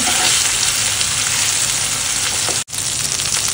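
Green masala fish fry cooks in a pan with a loud, dense, continuous sizzle heard up close, broken by one abrupt cut to silence before resuming.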